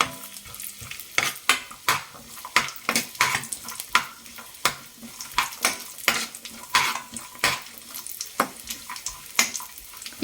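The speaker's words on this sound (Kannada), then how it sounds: "ಈಗ ದ್ರಾಕ್ಷಿ ಹಾಕ್ಕೊಂಡು ಹುರ್ಕೊಳ್ಳೋಣ." Raisins and cashews frying in a pan for avalakki payasa, a spoon stirring and clinking against the metal in a steady rhythm over soft sizzling, close with no talk.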